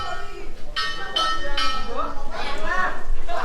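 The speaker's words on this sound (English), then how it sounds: "That is the Yabba Dabba Doo Bell" Yabba Dabba Doo bell rung at the end of a workday on a house-building site in the Philippines, a few bright metallic strikes ringing out amid background voices and site noise.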